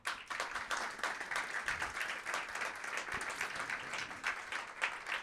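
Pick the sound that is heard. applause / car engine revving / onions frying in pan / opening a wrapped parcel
applause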